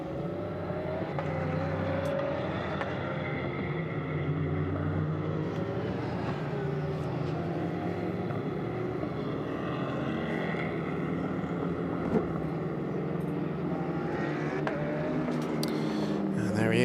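Ferrari GT race car leaves the pit lane during a six-hour endurance race at Paul Ricard, its engine a steady, fairly distant roar that holds for many seconds with slight shifts in pitch.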